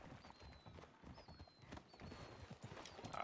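Horse hooves clip-clop at a steady walking pace in the RedM video game, a soft continuous patter under faint ambient background, with no talking.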